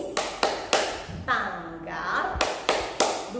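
Rhythmic hand claps from a children's day-naming clapping game, three sharp claps, a pause filled by a voice, then three more in an even beat, close and clear.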